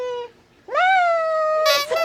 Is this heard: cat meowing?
yes